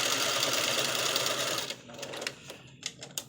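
A sewing machine stitches fabric pieces together, a fast, close mechanical whir at first, then slowing into a few separate clicks and thumps as the stitching stops.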